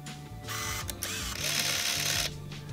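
A Canon Sure Shot Telemax 35mm compact film camera, fired with no film loaded, gives a close whirring motor burst from the shutter and winding mechanism, running about two seconds with a brief break in between.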